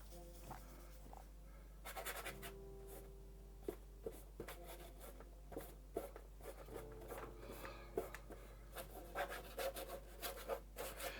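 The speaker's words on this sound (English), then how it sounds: "Scraping that on, folks, just scraping it on." A palette knife scraping oil paint onto a canvas landscape of water, rocks and an old mill, giving repeated dry rasping strokes in an uneven rhythm, close and clear over a steady low hum.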